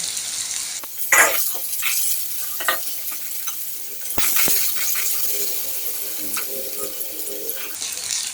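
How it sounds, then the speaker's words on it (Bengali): Potatoes fry lightly in a pan for a banana-flower dish, giving a soft sizzle broken by clattering stirs and scrapes of a utensil against the pan, fairly close and without talk. "আলুটা হালকা ভাজা হয়ে গেছে।"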